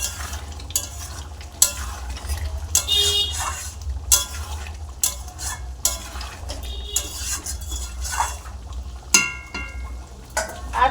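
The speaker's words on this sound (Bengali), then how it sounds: "এখানে একটুখানি গরম মশলা গুঁড়ো দিয়ে দিচ্ছি" Chicken curry being stirred in a pan after garam masala powder is added, with a steady low sizzle and repeated scraping, clinking strokes of a utensil against the pan, fairly close and with no talking.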